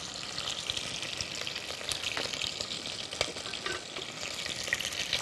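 Onion and carrot sauté together in a hot pan with a soft, steady sizzle and crackle, faint and continuous, with occasional stirring scrapes and no talking.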